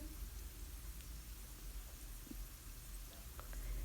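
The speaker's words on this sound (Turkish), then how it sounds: "Patateslerim kızarmaya başladı." Potatoes frying in a pan give a faint, even crackling sizzle, a soft rain-like patter with a few small pops, heard close and alone.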